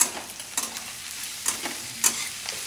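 Masala paste of onion, garlic and green chili fries to a light brown in a pan with a soft, steady sizzle and a few brief scraping stirs, and no voices.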